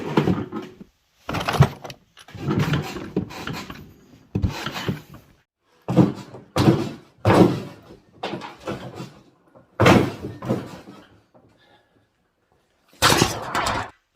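A badly built wooden drawer, overloaded and failing to close, is pushed and pulled repeatedly, giving a series of loud scraping, rubbing bursts with short pauses between and occasional knocks of wood.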